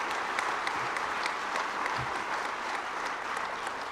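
Audience clapping steadily at an auto service center award event, a dense, even wash of many hands that holds at a consistent moderate level from start to finish.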